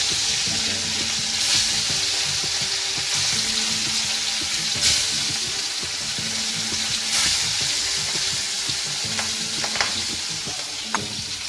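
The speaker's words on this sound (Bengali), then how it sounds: "আমাদের তেল গরম হয়েছে। এবার আমরা এতে মাছ ভাজা মাছগুলো দিয়ে দেবো।" Pieces of already-fried rohu fish go into hot oil for a thick Bengali curry with potatoes and tomato, and a loud, continuous sizzle runs throughout, with a few faint clinks near the end and no speech.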